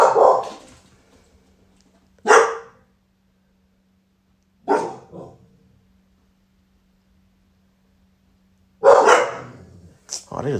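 A dog barks in four loud, close bursts spaced a couple of seconds apart, with quiet gaps between them and a person speaking at times.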